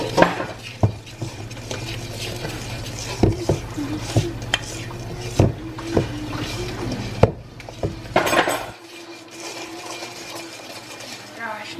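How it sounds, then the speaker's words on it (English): A Dr Pepper drink being stirred, with a spoon clinking sharply against the container at irregular intervals over a steady low hum, before the stirring stops and the hum cuts out. "Let me get this all stirred."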